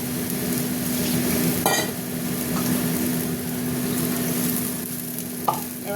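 Spices stirred into softened tomatoes frying in a pan for a Bengali mustard-poppy seed fish curry, a steady loud sizzle with occasional scraping clinks of the spoon.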